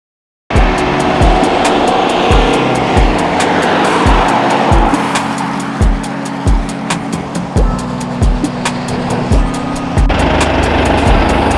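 A car driving at road speed while dragging a Lowepro camera backpack behind it, with loud steady road roar and rumble and regular rhythmic thumps repeating about every second as the bag bounces along the surface.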